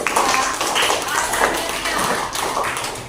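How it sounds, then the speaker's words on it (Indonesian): Applause for a student group after a classroom presentation, a steady wash of clapping lasting throughout with a few voices murmuring beneath. "Kita berikan aplaus dulu ya pada kelompoknya"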